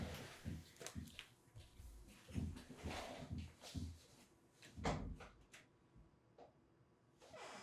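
A door opened indoors to let a cat into a room, a string of close knocks, clunks and rattles of the handle and frame with uneven bumps scattered across several seconds, quiet overall, no voices.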